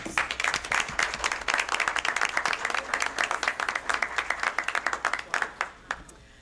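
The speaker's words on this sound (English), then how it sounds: "Please join me in giving Sand Ridge School District 172 a round of applause." A round of applause at a village board meeting, with individual claps distinct and fairly close, steady for several seconds before thinning out and fading at the end.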